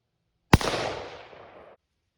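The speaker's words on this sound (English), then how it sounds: "So I'm going to take another shot." One sharp, loud AR-15 rifle shot cracks at close range and echoes off for about a second before fading into silence.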